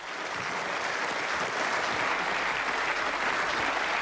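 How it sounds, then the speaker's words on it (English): Event audience applauding after a presenter finishes, a continuous thick roar of many hands clapping, steady and sustained throughout the whole stretch. "That's your applause."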